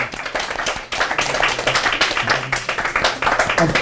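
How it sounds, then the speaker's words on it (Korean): A church congregation claps for a visiting accompanist, brisk, close handclaps from a modest group with uneven rhythm, a few voices murmuring underneath. "특별한 반주자 어머니로 박수를 한번"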